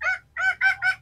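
A Tân Châu chicken, a long-tailed Vietnamese ornamental bantam breed crossed with Phoenix stock, gives four loud, close, honking calls in quick succession, with a short gap after the first.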